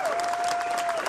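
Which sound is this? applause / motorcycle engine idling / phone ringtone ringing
applause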